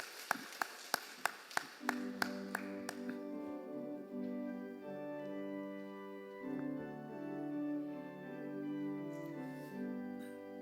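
A congregation at a Sunday morning church service claps about eight times in a crisp, evenly spaced rhythm, then the claps stop as sustained keyboard hymn music begins and continues alone.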